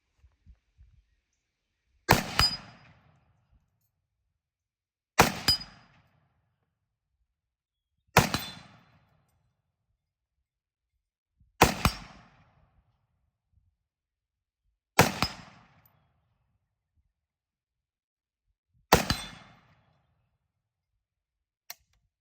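Six single gunshots from a Zastava M77 rifle, spaced about three seconds apart, each a sharp loud crack with a short decaying tail and near silence between the shots.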